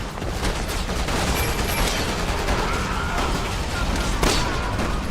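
Gunfire bursts in a Resident Evil 6 game session, a dense run of loud overlapping shots and impacts with busy game effects and noise, plus a sharp crack near the end.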